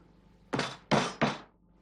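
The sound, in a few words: scone cutter sharply tapped through thick dough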